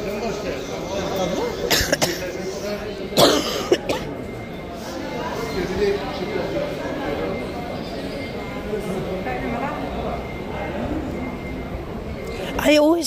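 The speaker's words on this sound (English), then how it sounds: "I need to blow my nose." Someone blows their nose in a few short, sharp bursts spread over several seconds, heard against a murmur of background chatter at a busy site in Mecca.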